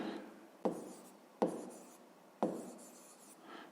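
A pen writing by hand on paper while working a fifth-grade fraction exercise, with three sharp strokes each trailing off into soft scratching, close and quiet, no talk.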